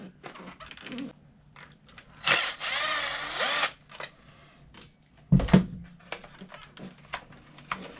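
Power driver backing a screw out of the steering on a Traxxas Maxx RC truck: a close whirring burst of about a second, then sharper clicks and brief mechanical rattles in a quiet setting.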